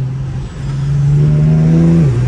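Infiniti G37 with a muffler delete accelerating under light throttle, its loud raw exhaust tone rising steadily and close by for about two seconds with no talking.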